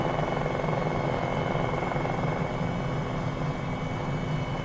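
Bell 407 helicopter in flight, heard from inside as a steady, loud, dense engine and rotor drone that holds constant throughout with no talk over it.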